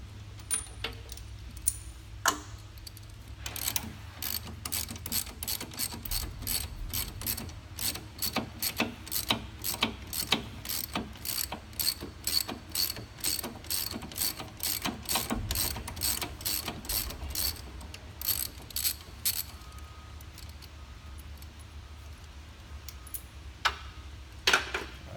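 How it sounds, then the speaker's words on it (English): A hand ratchet fitted with a 9/16 socket clicks in fast repeated bursts while loosening a cylinder on a Bobcat T300 skid steer loader. The close, crisp pawl clicking carries on for most of the stretch with short pauses. "I'm using a 9/16 socket, and that's about all you need."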